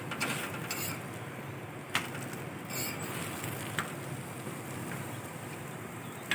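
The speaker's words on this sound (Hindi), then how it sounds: "इसको फिर आप तलिए" Aloo paratha frying in a pan gives a steady, dense crackling sizzle that runs close and even throughout, with a couple of brief sharp clicks.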